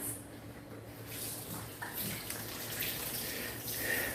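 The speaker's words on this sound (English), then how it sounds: "I got to get back over here, wash my hands" A tap runs steadily as hands are washed in a kitchen sink, a constant close hiss of flowing water with small splashes shifting through it.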